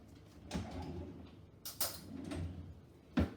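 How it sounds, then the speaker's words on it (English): A clean spoon is dropped into a kitchen drawer and the drawer slides and knocks shut, several soft rolling and clattering sounds ending in one firm thud, close and with no talk. "Put my clean spoon back in the drawer."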